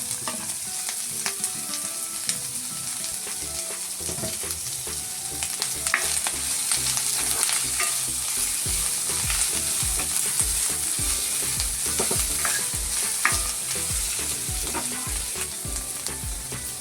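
Mushrooms sauté with curry leaves and salt in a pan for a mushroom roast, giving a steady, close sizzle broken by frequent scrapes and clicks of a stirring spoon, with no voices.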